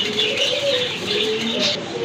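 A pair of large Beauty Homer pigeons at a pigeon farm coo continuously and up close, with soft chirps and birdsong in the background.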